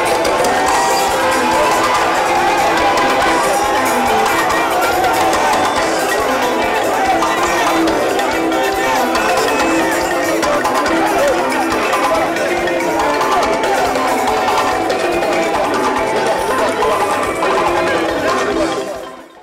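A stadium crowd in Kankan, Guinea, cheers and shouts continuously as the president dances, with a dense, loud roar of voices and music-like layers running steadily for about nineteen seconds before cutting off.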